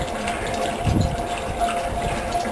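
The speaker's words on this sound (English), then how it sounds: "Here we're filling up the tank again" Pump filling a tank with clean, settled vegetable oil for making biodiesel: a continuous liquid gushing and pump whir with a brief louder surge, close and steady throughout.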